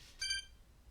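A phone gives a single short electronic beep, faint and brief, in a quiet room.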